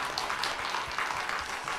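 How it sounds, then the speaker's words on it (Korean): A church congregation applauds during a worship service, with dense, steady clapping that holds at an even level throughout and no voices over it. "우리 하나님께 박수로 감사드립니다."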